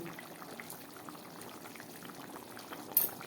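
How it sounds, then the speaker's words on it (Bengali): Chicken curry for a Kolkata restaurant-style biryani bubbles in a pot, a soft, continuous burble of boiling liquid heard up close, quiet throughout with a small louder splash near the end. "চিকেনটা পুরো ফুটে উঠেছে"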